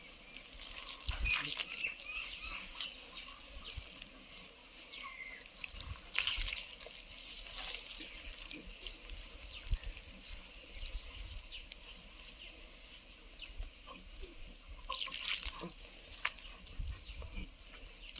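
Water is poured and dribbles in a thin, quiet trickle while dough is mixed in a home kitchen, with scattered drips and soft splashes, a few brighter bursts and no talk.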